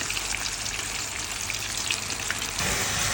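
Chicken pieces frying in hot oil at home, a steady dense crackling sizzle that carries on throughout and swells a little louder near the end, with no voices.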